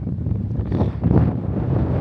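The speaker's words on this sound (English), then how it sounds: "It's proper windy now, isn't it?" Steady low wind buffeting against a microphone, a continuous rumbling roar with gusts swelling midway through.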